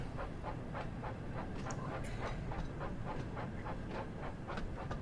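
Percy the engine's train runs along the line in a Thomas train sim video game, a steady rumble with a regular clickety-clack of wheels on rail joints, continuous and moderately close, with no talk.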